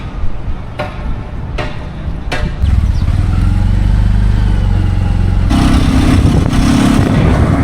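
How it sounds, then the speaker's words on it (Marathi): Motorcycle ridden through night traffic in Navi Mumbai on the way to Turbhe, its steady engine drone loud and close after a few brief bumps, with a rise in pitch near the end and no talk. "आपला भाऊ हा हर्षल आम्ही आता बाईक नेता तुर्भ्यात सोडणार"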